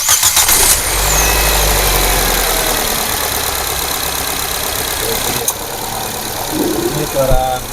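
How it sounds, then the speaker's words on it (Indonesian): A used car's engine cranks and catches, then settles into a steady idle close by, with a fan running and a few clicks near the end; a voice speaks over it. "ini kita hidupkan mesinnya, plus kita hidupkan AC-nya"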